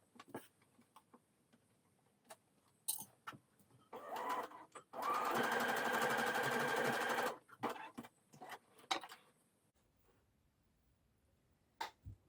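A sewing machine runs one steady burst of about three seconds, stitching the seam of a Poppy dress, with a few short start-stop whirs and clicks before and after it in an otherwise quiet room.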